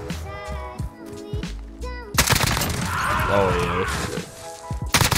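AK-47 fire with dismemberment rounds in Call of Duty: Modern Warfare comes as loud, dense bursts of rapid gunshots after a moment of voice, with a final short burst near the end.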